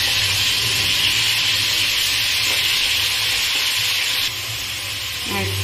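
Chicken pieces with chopped garlic fry in a pan with a loud, continuous sizzling hiss, close and unbroken, with a brief scrape of stirring near the end.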